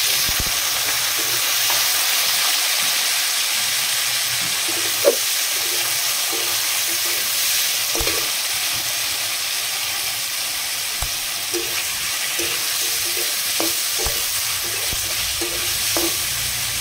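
Jackfruit (echor) pieces frying in hot oil in a kadai, a steady loud broadband sizzle with occasional stirring clinks and pops throughout, no voices.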